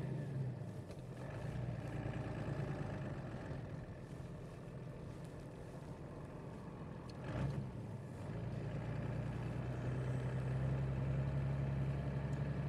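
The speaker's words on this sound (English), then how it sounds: "Somebody might be asking why I am revving up the engine and double clutching" A vehicle engine at 38 below Fahrenheit in the Arctic hums steadily, then revs up in a short burst near the middle and climbs again toward the end during double clutching, heard close with no talking.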